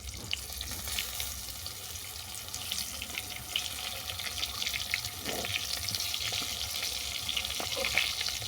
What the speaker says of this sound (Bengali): বেগুনটাকে উল্টো পাল্টে বাদামি করে ভেজে নেব